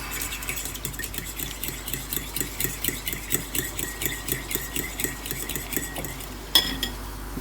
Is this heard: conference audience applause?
no